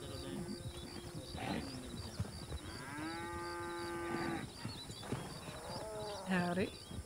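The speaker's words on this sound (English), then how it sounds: "It's moving a bit of cattle" Cattle mooing in the video game Red Dead Redemption 2 on the WildRP server, several long, drawn-out lowing calls close by amid ambient outdoor noise, with voices talking in between.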